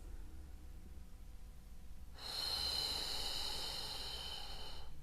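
A long, steady breath drawn in and out at close range during a birth-preparation exercise done at home while awaiting labour, a soft airy rush starting midway and holding to the end, with no voices over it.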